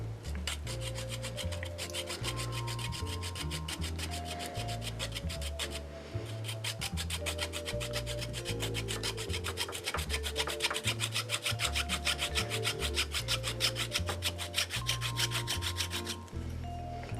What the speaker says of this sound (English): our trusty hobby saw is going to be the way forward here